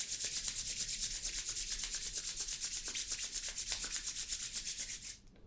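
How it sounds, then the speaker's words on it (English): Palms rubbed together vigorously, a close, loud rhythmic swishing of quick regular strokes that fades out at the end. "slowly bring the palms together and rub them vigorously until they become hot"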